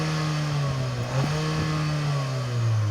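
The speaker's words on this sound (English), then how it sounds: "real quad exhaust, and because you guys are sadists, this is what it sounds like" A 2024 Chery Tiggo 8 Pro Max idles and revs through its real quad exhaust, a smooth engine hum that swells and sags with a couple of blips, heard close and alone.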